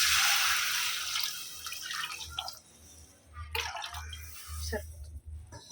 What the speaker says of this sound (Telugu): కొన్ని వాటర్ని కూడా యాడ్ చేస్తాను